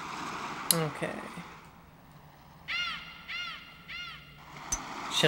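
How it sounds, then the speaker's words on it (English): A crow caws three times in quick succession amid golf-course ambience in Hot Shots Golf 3, with a couple of faint clicks around the calls. "Shut up, bird."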